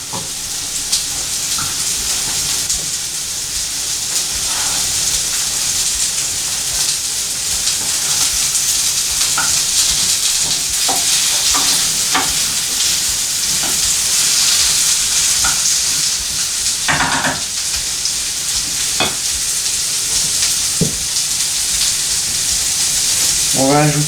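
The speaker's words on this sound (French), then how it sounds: "Et on ajoute les carottes. Tac. On met une pointe de beurre." Carrots and a knob of butter sizzle steadily in a hot pan, with a constant close frying hiss and occasional small clicks and stirring noises throughout.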